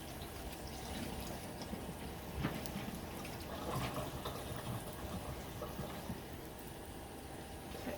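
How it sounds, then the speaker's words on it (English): Tap water runs into a kitchen sink to flush a drain clogged with grease, a steady, dense, close rushing with small fluctuations and no talking over it. "So I'm flushing my drain while I'm cooking with you."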